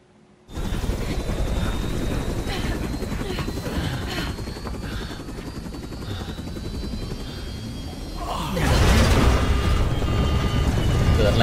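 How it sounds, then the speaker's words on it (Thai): A helicopter in the video game Resident Evil 6 roars with a loud, steady rotor and engine drone that swells even louder near the end, with a voice talking over it. "เฮลิคอปเตอร์โดนใครยิงมาวะ"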